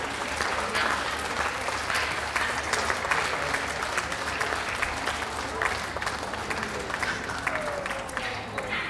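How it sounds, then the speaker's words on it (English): Dog show audience at the Bath Dog Show 2016 toy group ring, clapping steadily for several seconds as the dogs leave the ring, a dense even wash of applause with faint crowd murmur. "Can we have a round of applause for those leaving the ring,"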